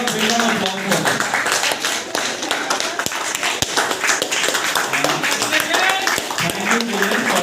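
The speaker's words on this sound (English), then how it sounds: "Let's have a big round of applause for them." An audience at an inter-class debate competition claps for the winning team, a steady patter of hands running throughout with a voice speaking over it.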